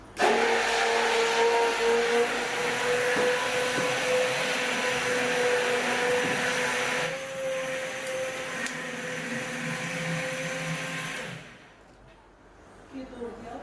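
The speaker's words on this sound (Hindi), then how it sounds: "अब इसे मैं स्टार्ट कर देती हूँ ब्लेंडर को।" A blender motor churning butter whirs steadily and loudly for about eleven seconds with a sustained hum, then cuts off, leaving a quiet moment.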